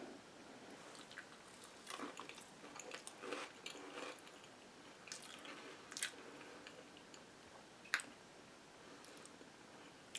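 A bite of grape soda cake being eaten up close, faint soft chewing and mouth clicks with a few sharper ticks, quiet and intermittent, with no talking.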